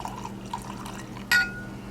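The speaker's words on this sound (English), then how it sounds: "We have a liberal pour." Angel's Envy whiskey is poured generously into a glass, a soft liquid trickle with a sharp glassy clink near the end, close and quiet, with no voices.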